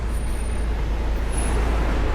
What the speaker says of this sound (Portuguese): o caminhão do lixo ali